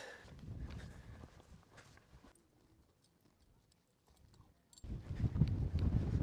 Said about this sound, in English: We're taking 4 horses and we're not going to ride,